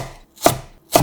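A kitchen knife cuts carrot into thin short strips on a cutting board, two crisp close chops spaced about half a second apart with near silence between.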